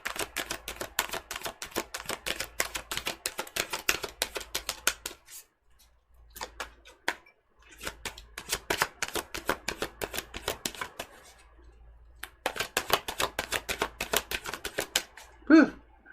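A deck of tarot cards is shuffled in long bursts of rapid, crisp riffling clicks. Brief quiet gaps separate the bursts, and the sound is close and fairly soft.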